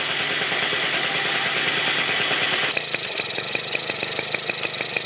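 Suzuki FA50 moped engine, after sitting unused for years, catches on one kick and settles into a rapid, rattly putter with a bright buzzing tone, close and steady, with no talk.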